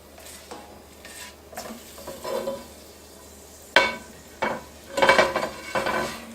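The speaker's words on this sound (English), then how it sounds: "I've got some onions and celery to cook, and we want it to get that flavor" Onions and celery are stirred in hot sausage fat, with a soft sizzle and several bursts of a spoon scraping and clattering against the pan, close and without speech.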